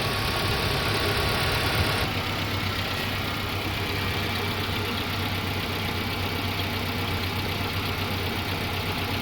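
A towed car with a repaired crankshaft seal idles steadily while warming up, a continuous close engine drone with faint knocking texture and no speech.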